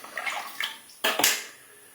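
A Gillette Superspeed safety razor is rinsed under running water: soft splashing, then a short, louder rush of water lasting about half a second, close by.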